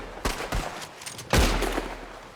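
Several sharp gunshots in a Red Dead Western shootout, spaced irregularly with a heavier close blast near the middle followed by a lingering echo.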